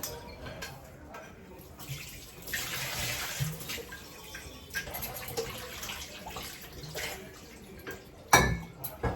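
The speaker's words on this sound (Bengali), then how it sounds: "জলের বোতলগুলো ভরতে হবে চলো" Water bottles being filled at a home tap, irregular running and splashing water with some clinks of bottles and a louder knock near the end, close and moderately loud.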